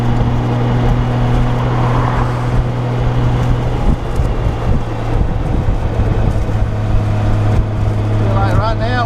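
A Honda GoldWing motorcycle cruises mountain roads near Robbinsville, North Carolina, its engine a steady low hum under constant wind rush, with a rider talking over it throughout.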